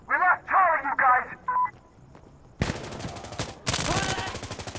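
A player talks excitedly over a few short, tonal in-game sounds, then loud bursts of automatic rifle fire from Insurgency: Sandstorm follow: two sustained rattling volleys, close and harsh.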